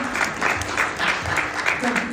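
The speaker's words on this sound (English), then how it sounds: "I'm gonna give you a round of applause anyway" Audience applause at a startup pitch event, a steady dense clapping wash that fills the short stretch at moderate loudness, with some voices audible underneath.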